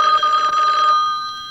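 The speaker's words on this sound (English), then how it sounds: "That's the news phone." A telephone rings in a Scooby-Doo cartoon newsroom, one loud bright electric bell burst lasting about a second, then fading out alone.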